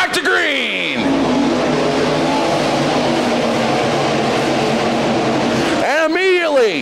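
Stock car race engines roar loudly and steadily at Crawford County Speedway, with sharp rising and falling whines from cars sweeping past at the start and end of a continuous wall of engine noise.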